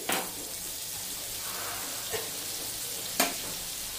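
Butter sizzling in a hot pan while making a paneer burger, a steady soft frying hiss with a couple of brief clinks or stirs, close and alone without talk.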